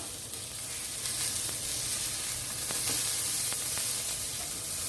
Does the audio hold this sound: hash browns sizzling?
yes